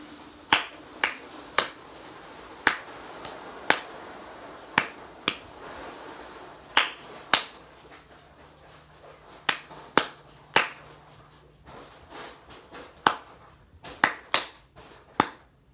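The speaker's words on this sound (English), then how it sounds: "I'll clap this page out." Sharp, close hand claps tap out a trombone exercise rhythm, about twenty crisp hits in uneven groupings with short pauses between phrases and no talking.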